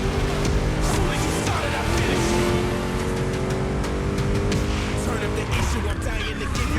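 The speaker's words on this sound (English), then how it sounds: "Just listen to that V8, like a chunky, down-tuned guitar riff" A V8 engine in the racing game The Crew Motor Fest, a loud continuous deep roar with tire noise, sustained close throughout while someone talks over it.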